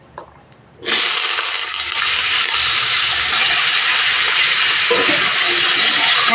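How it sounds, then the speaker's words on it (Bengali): Potatoes drop into smoking-hot oil with dried red chillies, setting off a sudden loud sizzle that holds as a steady, close hiss. "আলুগুলো ভেজে নেব।"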